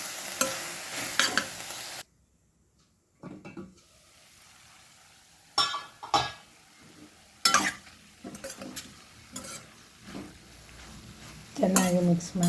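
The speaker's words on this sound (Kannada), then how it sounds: "ಈಗ ಚೆನ್ನಾಗಿ ಒಗ್ಗರಣೆಯಲ್ಲಿ ಒಂದು 2 ನಿಮಿಷ ಹೀಗೆ ಮಿಕ್ಸ್ ಮಾಡಿ ಮುಚ್ಚಿಡುವ" Bitter gourd frying in tempering oil and being mixed in a pan, with a soft sizzle under repeated scraping and clinking stirs of a utensil against the pan, close by.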